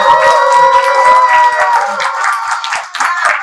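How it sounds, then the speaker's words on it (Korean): Audience at a live Korean talk show clapping in support of a prosecutor, loud and close, with sharp individual claps over a sustained tonal background and faint cheering. "박수로 한번 세게 응원 일단 보내봅시다."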